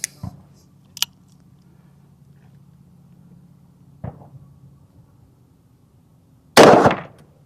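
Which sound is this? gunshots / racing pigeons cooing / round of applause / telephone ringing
gunshots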